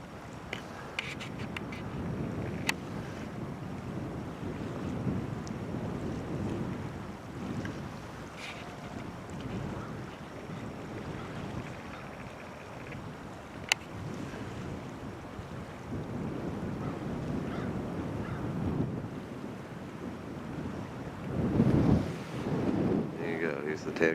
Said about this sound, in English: Here's the Tancook Ferry